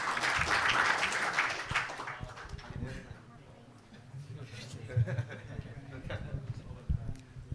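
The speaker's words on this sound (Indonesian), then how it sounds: "Boleh kasih aplaus dulu dong." An audience at the AAFI national working meeting (Rakernas) gives a burst of applause that is loudest at first and fades over a couple of seconds. Scattered claps and murmurs follow, with a voice speaking through them.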